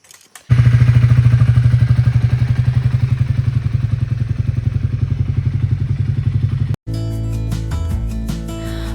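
A motorcycle setting off on a ride from Murshidabad to Kolkata, its engine thumping loud and close in a fast, even pulse. It cuts out abruptly near the end and music takes over.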